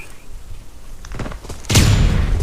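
Gunfire in the first-person shooter game Arena Breakout: a few scattered shots, then a louder, sustained burst of firing near the end.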